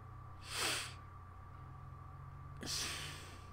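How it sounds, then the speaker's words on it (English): Two short, breathy sneeze-like bursts about two seconds apart, close and fairly quiet over a faint steady hum. "I gotta sneeze wait"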